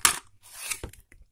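Twist ties on a Transformers SS Gamer Edition Deluxe Sideswipe toy package are cut, giving a few short close snips and plastic clicks with brief pauses between, quiet and without talk.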